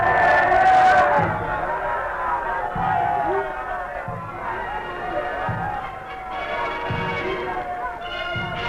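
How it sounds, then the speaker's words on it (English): A huge crowd jostling along the route in Jamaica in April 1966, waiting to see Emperor Haile Selassie: a dense, steady roar of murmuring and cheering, loud and continuous, with a voice speaking over it. "Huge crowds jostled for choice vantage points all along the route in the hope of seeing the Emperor"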